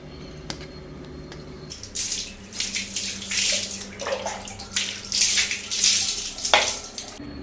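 Tap water runs and splashes steadily while a washing machine filter is rinsed by hand, with light clatter and swirling bursts building over several seconds at close range.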